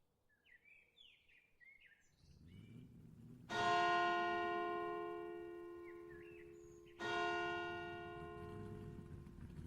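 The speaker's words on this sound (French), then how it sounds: "les cloches de la cathédrale Saint-Pierre à Nantes résonnent doucement dans l'air encore frais du matin" The bells of Saint-Pierre cathedral in Nantes ring in the cool morning air, with two loud struck tolls that ring on and slowly fade. Birds chirp softly before the first strike.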